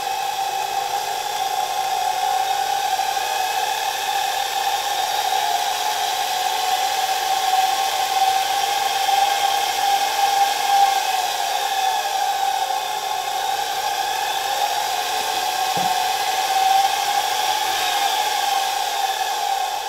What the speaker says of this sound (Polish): Dość mocne iskrzenie tutaj, zwłaszcza na jednej ze szczotek, i mam wrażenie, że jednak nieregularna praca tego silnika.